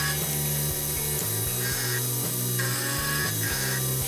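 Milling machine cutting a flat on a homemade fly cutter in light passes, a loud steady mechanical whir with a rhythmic chattering tick from the cutter and a droning tone throughout.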